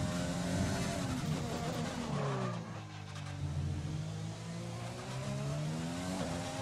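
Formula 1 car engine in the F1 2020 racing game, a loud continuous whine with rising and falling pitch as it revs through gears, with some tyre squeal, steady and close throughout.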